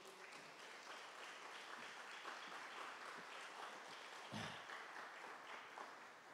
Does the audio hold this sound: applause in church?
yes